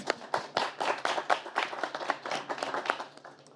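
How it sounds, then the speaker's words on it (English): Audience at a panel discussion at the ICE Village during the World Economic Forum in Davos gives modest applause, a fairly sparse patter of distinct claps that rises and then thins out. "Round of applause."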